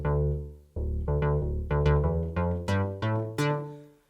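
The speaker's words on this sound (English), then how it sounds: "So we have some nice bass sounds here." Deep 80s-style synth bass preset on a Roland Jupiter-50 plays a short run of punchy, sustained notes in a stepped pattern, each note struck cleanly with clear harmonic body, alone with no voices.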